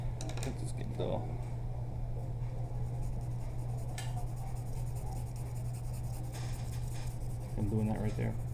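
Dull graphite pencil shading a paper bag drawing on paper, faint scratchy strokes in short bursts under a low steady hum.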